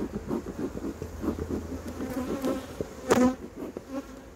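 Honeybees swarm over an opened hive as wax foundation frames are checked, giving a steady, close buzzing hum with a brief louder surge near the end and no voices.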